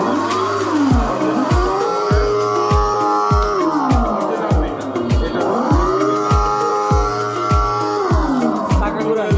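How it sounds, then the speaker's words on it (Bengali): A children's rechargeable R1 5 ride-on bike sounding its electronic engine effect, a loud synthetic roar that rises and falls in two long swells over repeated revving pulses, heard alone. "গাড়িটা অন করবো।"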